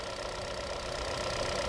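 A 2019 Kia All New K3 engine idles steadily indoors, a constant loud mid-frequency hum with slight knocking texture echoing in an enclosed space, no talking.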